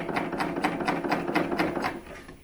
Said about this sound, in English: So this is how it looks at the serger.